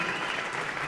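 Home crowd at a Mendota boys high school basketball game applauding as a player heads to the bench, a brief dense burst of clapping filling the gym.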